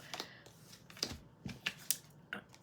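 Tarot cards being shuffled by hand give a quiet, sparse series of sharp flicks and snaps spaced irregularly, close to the listener with no talking.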